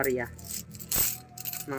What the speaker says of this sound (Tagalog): Madami akong barya. May tig 20, 10, 5.